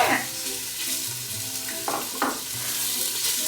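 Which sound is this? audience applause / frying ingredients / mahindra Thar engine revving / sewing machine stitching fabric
frying ingredients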